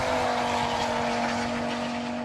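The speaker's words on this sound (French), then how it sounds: "400 chevaux, le 5 cylindres turbo est le moteur le plus puissant équipant une compacte." Audi RS3 with its turbocharged five-cylinder engine pulling hard, a sustained raspy drone with a steady tonal whine, moderately loud and continuous.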